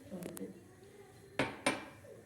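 Dishes and cutlery clink in a home kitchen amid washing-up, with two sharp clatters standing out against quieter handling noise and some faint background voice.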